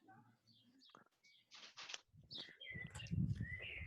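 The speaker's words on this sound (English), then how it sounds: "I can hear birds." Birds sing outdoors in a garden, scattered chirps and short calls at moderate distance, heard between and beneath people talking on a call.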